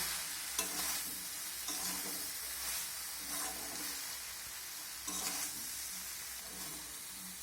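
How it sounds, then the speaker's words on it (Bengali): Fried cauliflower, potato and soybean sautéed with spices in a pan, a soft continuous sizzle broken by repeated scraping strokes of a spatula, close and fairly quiet, with no talking. "মশলার সঙ্গে সব কিছু এখন আবারও আমি ভালো করে কষিয়ে নেব"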